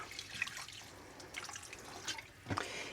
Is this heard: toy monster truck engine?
no